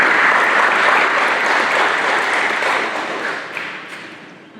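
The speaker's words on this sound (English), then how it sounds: "It's okay to applaud for them." Applause from the audience at a college graduation celebration for design, illustration and sustainable agriculture students, a dense, loud wash of clapping that holds steady and then thins slightly toward the end.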